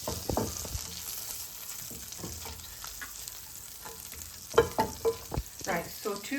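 Roast potatoes being stirred to mix in parsley, a soft background sizzle with scraping and clunking stir strokes that grow louder near the end, close and without talk.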